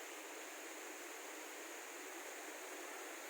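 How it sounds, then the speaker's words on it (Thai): Waterfall at Nan Chon, Huai Mai Kaen in Ron Phibun, Nakhon Si Thammarat, pouring in a steady, even hiss of rushing water, faint and distant, with no voices or other sounds. "ตรงนั้นเป็นน้ำตก"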